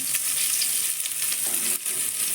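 Onion fries in hot oil with cardamom, cinnamon and clove, giving a bright, steady sizzle close by, with occasional soft stirring scrapes and no voices.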